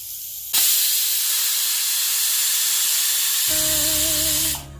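A pressure cooker holding rice releases steam in a loud, steady hiss for about four seconds. A wavering tonal whistle rises under the hiss before it cuts off.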